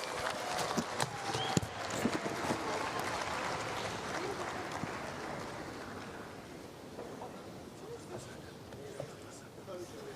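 An audience at an official opening ceremony for a national SMEs and cooperatives indaba in Zimbabwe applauding the President, a broad sustained clapping with scattered sharper claps, moderately distant, with a voice talking over it.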